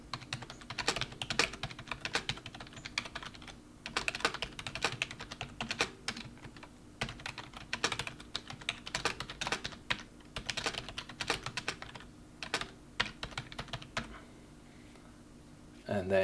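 Custom text is typed on a computer keyboard while setting up Microsoft 365 Exchange options, producing steady close clicking keystrokes in bursts with brief pauses and a low background hum.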